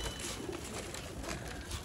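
Pigeons coo steadily at close range in a loft, their low throaty calls overlapping in a continuous murmur with no voices present.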